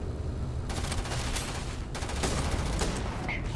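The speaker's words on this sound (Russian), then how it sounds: "Какой я меткий, с дробаша промазал." Gunfire in the video game Starfield, heavy, continuous booming blasts that fill the whole stretch, with a few sharper reports among them, loud and close.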